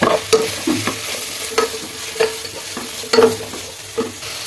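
Onions with a ginger, garlic and pepper paste are stirred in a pan for a biryani. A spoon scrapes and clacks against the metal in repeated close strokes over a frying sizzle, with no speech.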